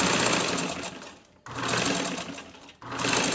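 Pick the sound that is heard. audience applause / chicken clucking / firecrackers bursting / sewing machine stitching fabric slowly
sewing machine stitching fabric slowly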